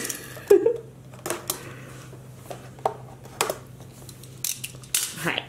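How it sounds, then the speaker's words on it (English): Blade snipping through packing tape to open a cardboard box of AmeriColor food coloring, heard as a series of short, close, irregular cuts and tearing scrapes with small pauses between them. "let's open up this box."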